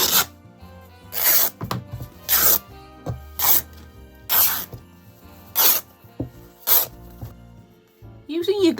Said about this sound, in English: Cut a little snip at 2 centimetres and then tear and listen to the wonderful noise.